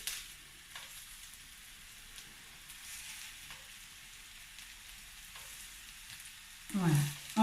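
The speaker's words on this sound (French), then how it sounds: "Voilà, on va les laisser frire." Vegan pommes noisettes, small potato balls, frying in oil make a quiet, steady bubbling sizzle with faint crackles, ending in a short louder stir or clatter.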